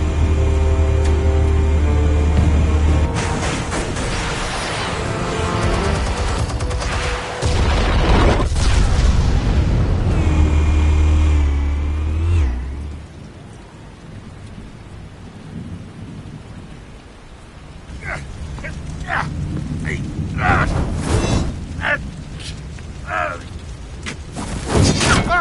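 Explosives detonating in a Batman video game land as heavy, rumbling booms that swell loudly in the first half, then fade into a quieter stretch broken by sharp crackling bursts near the end.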